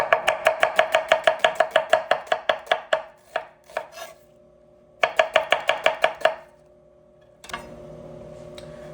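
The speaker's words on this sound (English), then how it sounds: "we're firstly going to start by cutting our red onions" A knife cutting red onion into julienne strips on a board, a rapid even series of crisp chopping taps, pausing briefly, then another quick burst, close and clear.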